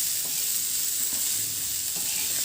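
Peeled, cubed raw potato pieces sauté on a tava for a tiffin bhaji, giving a steady, close sizzling hiss that continues unbroken.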